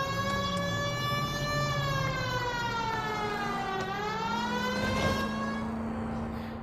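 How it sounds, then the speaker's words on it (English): A police siren wails in the L.A. Noire video game, its rising and falling tone sustained loud and steady throughout, layered over a low engine drone. "Can you not hear the siren?"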